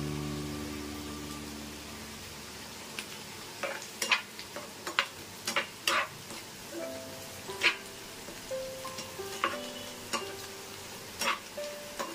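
Onions frying in a pan at home, a soft steady sizzle beneath intermittent scraping and stirring clatter from a utensil, with brief tonal hums early on.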